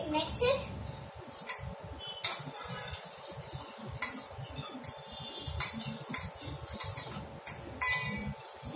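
A spoon stirs lemon juice with sugar and salt in a glass, giving scattered light clinks and taps over several seconds while people talk, including a voice.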